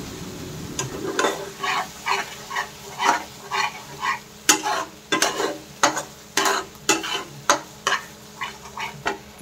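A spoon stirs cashew paste with masala in a pan, making a repeated rhythm of scraping strokes about once a second over a light sizzle, close and fairly loud with no talking.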